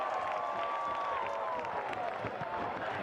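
A stadium crowd at a Detroit City FC versus Orange County SC football match applauds and cheers in a steady wash, with a whistle-like tone sliding down over it.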